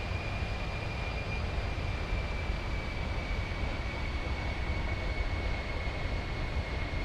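Jet engines of a Virtavia C-17, a large military transport aircraft in X-Plane 11, hold a steady loud roar with a constant high whine running through the whole stretch, heard alone without voices.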